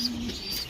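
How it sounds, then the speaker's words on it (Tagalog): Pigeons in a breeding loft give a soft, brief coo, close and moderately quiet, with a faint chirpy note above it. "Gandang ibon mga kalapatids"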